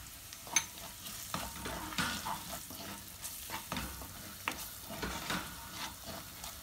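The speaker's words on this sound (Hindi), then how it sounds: "इसको स्टर देंगे।" Onions fry in a pan with dry spices (red chilli, coriander, cumin and turmeric) while a spoon stirs them, giving a steady low sizzle broken by repeated scraping strokes, close and moderately loud, with no talking.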